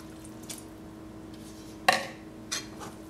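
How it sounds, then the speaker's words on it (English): Water poured into a cooking pot while making crawfish étouffée from a Zatarain's mix, heard as a short splashing pour with a faint drip just before and a brief second splash after, over a steady low kitchen hum. "Pouring the rest of our water."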